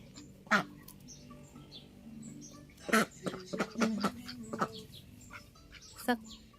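Ducklings on a farm give short, scattered quacking peeps in small clusters, fairly faint and close, with quiet gaps between calls.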